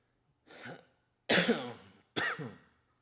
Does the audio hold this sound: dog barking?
no